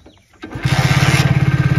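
A Hero HF Deluxe BS6 motorcycle engine cranks with a brief whir, then catches and settles into a fast, even putter, loud and close with no talking.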